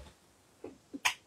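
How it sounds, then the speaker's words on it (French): A single close sneeze: two soft catching breaths, then a sharp, explosive burst at the end. "Attention, je vais éternuer"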